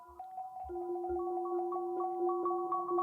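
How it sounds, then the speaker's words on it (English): Marimba notes repeat through delay in Ableton and are squashed by heavy compression into a dense, sustained wall of overlapping tones, steady and loud for the whole stretch, with a few soft low thumps near the start. "a giant compressed wall of sound of marimba notes"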